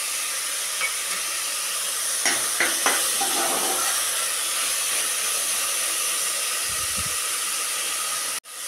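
Sprouted peas sizzle in hot tempering in a pan, a steady broadband hiss with a few stirring clicks and scrapes near the start, fairly close, no talk.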